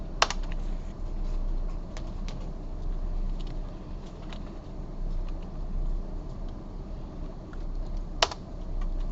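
Computer keyboard typing during a coding lecture, faint soft key clicks scattered over a steady low background hum, with a couple of sharper isolated taps, no voices.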